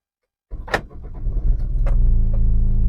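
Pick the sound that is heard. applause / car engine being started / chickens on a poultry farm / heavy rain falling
car engine being started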